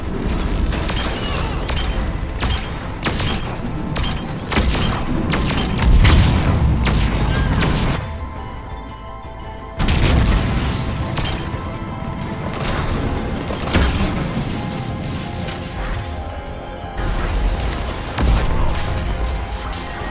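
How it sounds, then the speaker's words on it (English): Cannons fire in a video game: repeated heavy booms and blasts crash in rapid volleys, loud and close, with a brief near-silent pause midway before the barrage resumes. "Cannons engaged."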